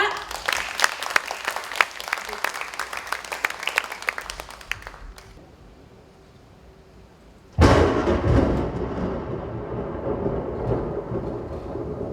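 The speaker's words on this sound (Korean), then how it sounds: "큰 박수 부탁드립니다" Audience applause bursts out loudly for a developmental-disability family institute's educational puppet troupe, first dense and crackly, then dropping to quiet before a second strong wave of clapping swells and holds.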